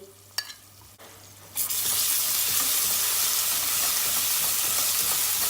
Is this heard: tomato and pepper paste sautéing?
yes